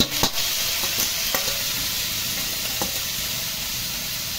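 Sweet potato and bean sprouts stir-fried in a pan for a budget vegetable lumpia filling, a steady close sizzle with a few scraping stirs near the start.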